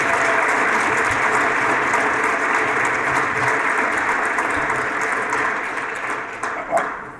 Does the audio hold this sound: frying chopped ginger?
no